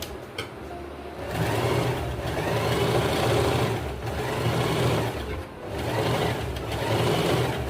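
A sewing machine stitches a sleeve, a loud close mechanical whirring that runs in several bursts with brief slowdowns between them.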